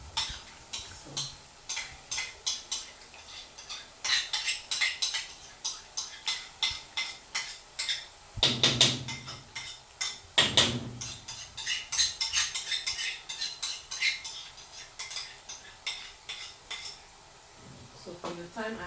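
A spoon scrapes and clinks against a pot while tinned tomatoes are stirred in, making irregular repeated metallic knocks and scrapes that run steadily throughout, close up, with a couple of louder clatters midway.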